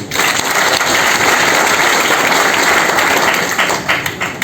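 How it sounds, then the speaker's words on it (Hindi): Loud, dense applause from an audience at a business training session, a steady wash of many hands clapping that continues for several seconds before thinning slightly at the end. "अब आपकी तालियों से मुझे ये समझ में नहीं आ रहा कि"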